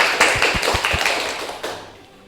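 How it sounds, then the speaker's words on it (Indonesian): A microteaching class applauds a student, a short burst of sharp, close hand claps and taps in a small room that quickly fades away. "Tepuk tangan buat Mbak Intan."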